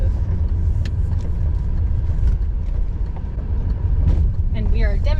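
A BMW with coil-spring suspension drives over cobblestone streets, producing a steady, loud low rumble of road and tyre noise inside the car, with a voice rising near the end.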